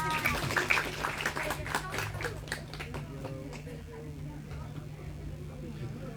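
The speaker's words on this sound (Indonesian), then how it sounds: "Betul, kasih tepuk tangan." Applause from a crowd at an Islamic religious gathering (majelis), with scattered hand claps and taps that are stronger early and then fade into a steady background while people keep talking throughout.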